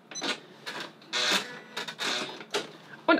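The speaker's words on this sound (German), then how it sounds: "ich nähe jetzt immer noch ein bisschen in die angefangene Naht hinein" A sewing machine stitches into a zipper pocket seam in short bursts of quick mechanical whirring, stopping and starting several times, close by.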